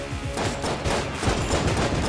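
Rapid gunfire from Enter the Gungeon, a dense stream of loud, close shots that runs without pause through the whole short stretch.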